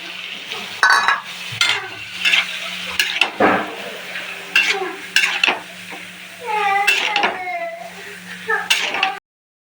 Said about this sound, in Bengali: মশলার সাথে কিন্তু ভালো মতো কষিয়ে নিতে হবে